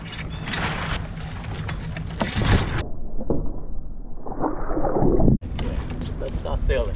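A Sunfish sailboat moves across open water under a new sail. Steady rushing water and wind buffeting run throughout, with a brief dropout near the end and no clear talk.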